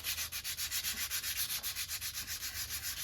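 Sandpaper rubs steadily across a sculpture in an artist's studio, a close, rhythmic back-and-forth scratching with about ten even strokes per second, continuous and alone without voices.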